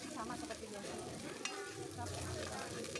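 Onions and garlic sautéing in a pan give off a soft, steady sizzle with occasional stirring clinks, faint and close throughout.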